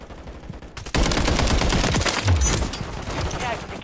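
Rapid, dense automatic gunfire from a battle rifle in the shooter game Call of Duty: Modern Warfare III, loud and sustained after a short quieter lead-in, with bursts of shots and a thump near the middle.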